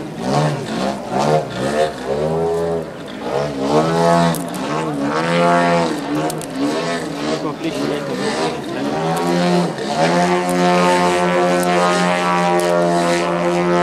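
A model aircraft engine whines loudly and continuously through an aerobatic spin at a model flying competition, its pitch sweeping up and down as the throttle changes.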